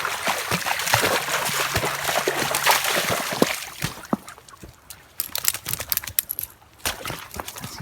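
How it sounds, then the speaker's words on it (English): Water of a small river sloshes and splashes while someone wades across it, dense trickling and churning at first, then thinning into scattered sharp splashes and drips up close. "I'll get across this little river here."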